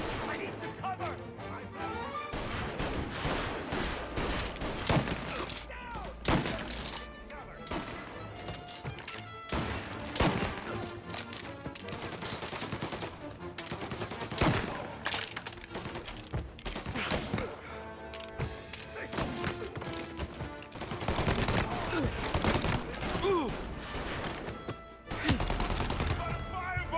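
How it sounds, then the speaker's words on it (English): Gunfire crackles in repeated bursts and single shots during a shootout in the video game Mafia Definitive Edition, loud and close, with crashes and voices talking between volleys. "Gunshots heard."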